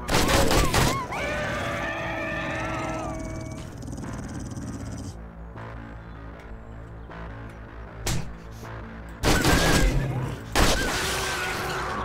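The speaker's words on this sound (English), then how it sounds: "Yes, that was me shooting." Several sharp, loud gunshots fire in the survival game End Of Dayz, with bursts near the start and again near the end around a quieter stretch of game ambience and animal noise.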